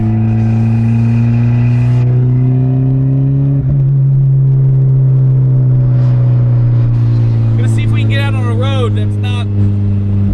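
A turbocharged Honda Integra accelerating hard from inside the cabin, the engine's loud, steady drone climbing in pitch, with a whistling turbo note and a voice briefly heard over it.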